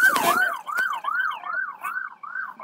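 Two ambulances pass with sirens wailing in a steady repeating up-down sweep, loud and close at first and fading slightly, during a street blockade in Cúcuta.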